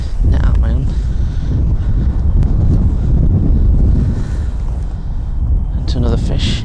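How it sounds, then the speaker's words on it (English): Strong wind buffets the microphone on open water during fishing, a loud continuous roar with gusty swells, alongside brief splashes and faint background voices. "Very windy, blowing it out"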